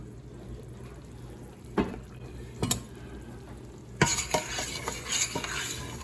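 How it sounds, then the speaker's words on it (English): Flour and butter roux being stirred in a pot for an 18th-century New England clam chowder, with soft scraping strokes and a few sharp utensil knocks against the pot over a steady low sizzle. "We're gonna make our roux now"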